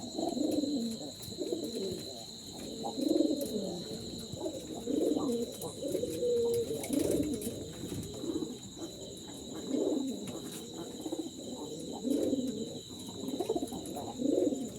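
Pigeons in a loft, mostly males gathered together, coo in overlapping low throbbing calls through the whole stretch, close and steady, with a faint constant whine in the background.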